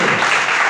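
A church congregation claps during a service, a dense, loud burst of many hands applauding together, brief and continuous.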